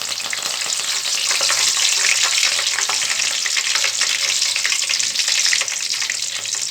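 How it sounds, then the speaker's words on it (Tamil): A bunch of curry leaves fries in hot oil, giving a loud, dense, continuous sizzle and crackle from close by that holds steady before easing slightly near the end, with no one talking. "கருவேப்பிலை ஒரு கொத்து எடுத்து வச்சுருக்கேன். அதையும் நம்ம இது பொரிச்சு எடுத்துக்கலாம்."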